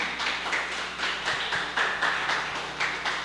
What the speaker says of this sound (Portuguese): Vamos aplaudir, pessoal, em nome de Jesus.